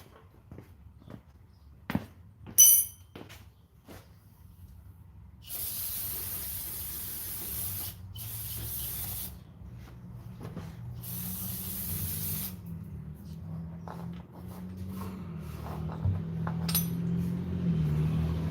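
Cleaner sprayed in several short, close hissing bursts in a toy shop, mixed with faint clinks and handling noises.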